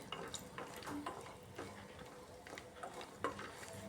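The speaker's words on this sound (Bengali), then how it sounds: "এর মধ্যে দিয়ে দিলাম সামান্য রিফাইন্ড অয়েল দিয়ে বড়িগুলোকে আগে একটু হালকাভাবে ভেজে নিতে হবে" Urad dal bori dumplings frying in a little refined oil in a kadai, a faint, soft sizzle with scattered spoon scrapes and stirring clinks close by.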